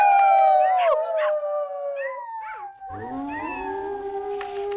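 Children's voices imitate fox howls, drawn-out wavering 'ow' cries one after another, loud and close, with a lower voice joining toward the end.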